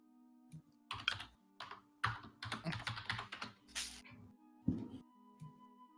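Someone types on a computer keyboard in irregular close bursts of clicking keys with short pauses between them, and no one talks.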